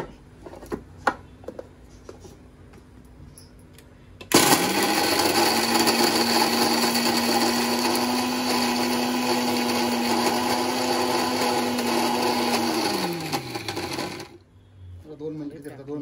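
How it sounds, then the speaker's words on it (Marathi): A mixer grinder grinding crab masala for a Malvani-style crab curry: after a few light clicks, the motor starts and holds a loud, steady whirring drone for about ten seconds, then winds down and stops. "हे बघा आता हे मिक्सरला वाटून घ्यायचं आणि त्याचा"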